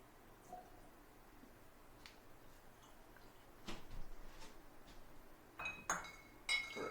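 Soft, close glassy clinks and a brief squeaky twist as a cork is pushed back into a Stagg bourbon bottle, quiet taps scattered over a hushed room with no talking.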